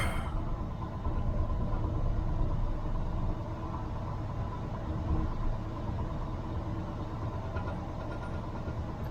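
Jeep CJ-7 engine idling high on a cold start at about 1,000 RPM, a steady low rumble heard up close with no voices, the tone holding even throughout apart from a slight dip partway.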